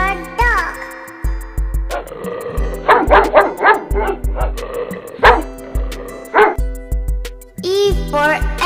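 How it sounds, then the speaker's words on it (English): Cartoon dog barks for the letter D in a children's phonics nursery rhyme, several short yips and woofs in a bouncy rhythm over a loud, busy music backing. "D for dog"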